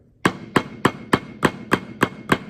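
Drum flams played on a practice surface give eight evenly spaced sharp strikes, each a grace note falling just before an accented stroke, as hands alternate in a steady, close rhythm.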